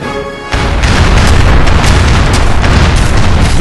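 Ship cannons fire in a naval battle cutscene from Age of Empires 3: after a brief quiet moment, a loud booming barrage erupts and rolls on without pause as a dense, continuous roar of blasts.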